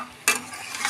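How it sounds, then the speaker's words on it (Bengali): Marinated jackfruit is stirred in a hot wok, a sudden scrape and sizzle of the spatula followed by continuing frying hiss and stirring noise, close and clear with no talk. "দিয়ে এবার একটু ভালো করে নাড়িয়ে নেব"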